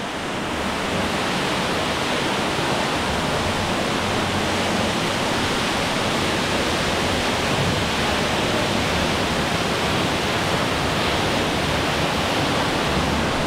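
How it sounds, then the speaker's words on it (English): A massive waterfall roars inside a large cavern in the Blue Mountains, a loud, steady broadband rush that fills the whole space without letup, with no voices over it. "It's quite a large cavern in here. Woo! And the waterfall is massive."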